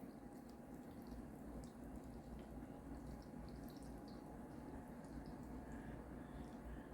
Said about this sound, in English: right now we're just going to pour my milk mixture over my bread